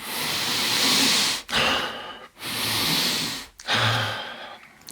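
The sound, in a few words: deep breathing demonstration, Wim Hof breathing method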